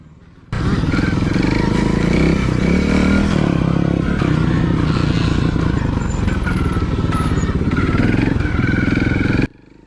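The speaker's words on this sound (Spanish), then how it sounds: "En este onboard subido a mi Montesa 4RT de trial os mostraré algunos tramos del circuito." A Montesa 4RT 260cc trial motorcycle ridden onboard around an enduro circuit, its engine buzzing loud and close with revs rising and falling, plus clattering and scraping over rough ground.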